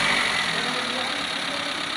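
A 2013 Toyota Etios Liva's engine idles with a steady, smooth, continuous hum and hiss, loud and close up, with no change in pace across the short stretch.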